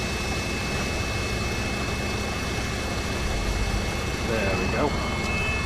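Idling diesel engine of a delivery truck with a crane and lifting rear axle, dropping off bulk bags at a site, a continuous low rumble and drone heard close up while someone speaks briefly over it.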